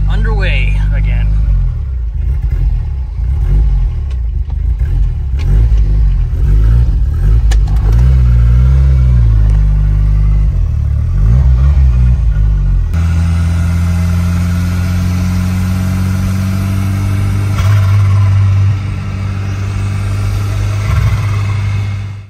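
A Volvo 240 Turbo wagon drives along with a loud, close engine rumble that rises and falls through the gears, and then settles into a steadier drone.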